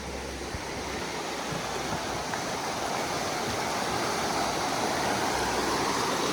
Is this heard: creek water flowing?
yes